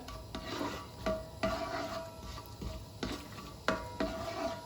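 Whole bay leaves, cloves, cinnamon and cardamom are stirred in hot oil in a pan. A steady frying sizzle runs underneath, and the spoon scrapes and taps against the pan in a slow, irregular rhythm.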